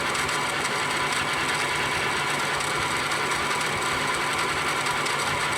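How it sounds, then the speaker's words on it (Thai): A worn, noisy cooling fan runs inside a 1000 VA grid tie inverter, giving a loud, steady whirring and rattling drone that holds unchanged throughout with no talk. "ตัวพัดลมไม่ค่อยดีแล้วนะฮะ พัดลมทำงานมีเสียงดัง"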